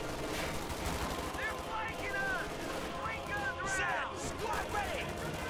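Machine gun fire rattles through a Company of Heroes 2 battle, with dense rapid bursts mixed with distant explosions and other combat noise, while a commentator talks over it.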